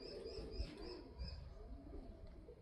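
A bird at a rescued-animal shelter in Lviv gives soft, low cooing calls, tagged more like a pigeon or dove than a raven or crow. The calls come in a few faint, repeated pulses over steady background noise, with no talk.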